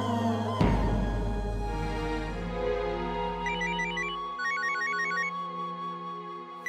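A telephone rings with a repeated electronic ringtone, bursts of bright chirping notes in quick patterns against quiet indoor background tones, fairly close and clear, with no talk.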